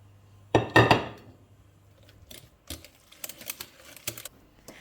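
Batter for breakfast pancakes is being stirred in a bowl with baking soda, two coarsely grated apples and cottage cheese. A loud clatter comes first, then lighter scattered clinks and taps of the utensil, close by, with no talking.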